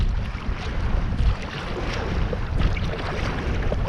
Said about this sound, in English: I'm going to let the wind take me across the loch at a traverse to the far shore